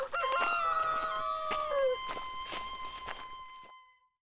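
A red rooster in a cartoon set at a rain-soaked, deserted village market crows loudly once, a long drawn-out call. Faint clucks and soft footsteps follow before it cuts to silence.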